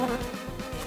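A fly buzzing close by, a brief, fluttering drone with wavering pitch, heard alone with no talking.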